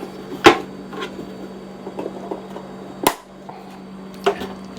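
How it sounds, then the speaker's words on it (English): A door on a Ryobi band saw bangs shut with a sharp thud, among a few other knocks and clunks over a low steady hum. "Let's close that door."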